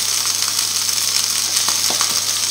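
A steady, close sizzle of tournedos steak frying in a pan, constant hissing with occasional small pops and crackles throughout.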